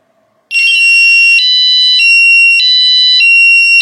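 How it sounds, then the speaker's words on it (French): A Nash Siren R3 bite alarm's anti-theft siren blares suddenly after a brief quiet, a very loud, piercing electronic wail that pulses in steady repeating cycles close to the microphone. "Donc là, tu enclenches réellement ton antivol."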